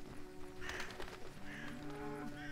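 A cow in the video game The Witcher, with a low drawn-out tonal moo-like call over the steady ambient bed of the game world, moderately loud and near.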